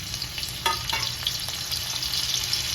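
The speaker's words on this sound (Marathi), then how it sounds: "आता तेल गरम झालंय आता मिरची टाकायची" Green chillies dropped into hot oil in a kadhai, giving a sudden burst of crackling and spitting that settles into a steady close sizzle.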